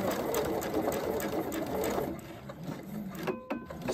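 A sewing machine stitches fabric in a steady close whir for about two seconds, then slows and stops with a few faint mechanical clicks.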